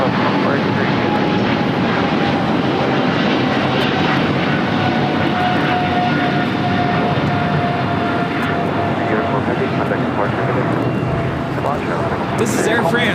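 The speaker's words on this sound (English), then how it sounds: "This is Air France Flight 23 taking off to Paris on a 777-300ER." Air France Boeing 777-300ER taking off at LAX, a loud, sustained jet engine roar that holds steady for the whole stretch, with a voice talking over it.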